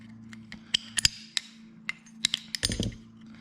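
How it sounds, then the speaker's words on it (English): Small metallic ticks and clinks as hose clamps are worked off a lawn tractor fuel line, a scattering of sharp separate taps close by, ending in a brief rough scrape. "So pull the clamps off the rest of the way."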